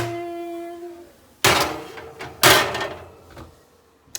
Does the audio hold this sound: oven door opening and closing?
yes